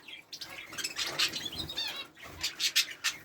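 Canaries in an aviary give off a mix of bright chirps, twitters and rustling wing flaps. The sound is fairly faint and scattered, with no voices.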